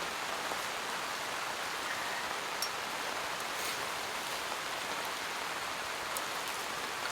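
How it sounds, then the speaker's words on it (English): Heavy rain pours steadily on a four-season tent during a car-camping trip, a dense, even hiss that stays loud and unbroken throughout. "I don't know if you're picking up any of this rain, but it is chucking down"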